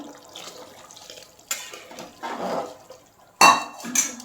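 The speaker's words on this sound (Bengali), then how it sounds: "আমি আরেকটু জল দিয়ে দিচ্ছি" Water poured into a pot of duck curry with broad beans, sounding as a few short splashy bursts with clinks of a pot and utensils between quieter gaps.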